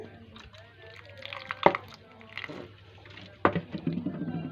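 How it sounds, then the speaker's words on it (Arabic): Lemon juice and vinegar are poured over seasoned liver in a bowl, with soft trickling drips and a couple of sharper splashy bursts, close and fairly quiet. "هحط عليها كده بقى ليمون، وهحط عليها شويه خل"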